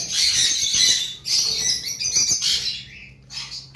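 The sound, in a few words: Japanese red-eye budgerigars chirping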